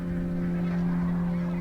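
Geese honk in a steady chorus of calls from a flock, heard as a continuous layered sound at moderate distance with no talk.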